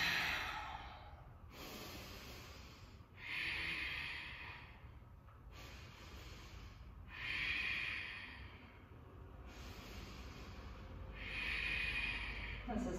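Slow, deep yoga breaths are held in a pose, each long airy inhale and exhale drawn out over a few seconds in a quiet room, close and unhurried, with no talking.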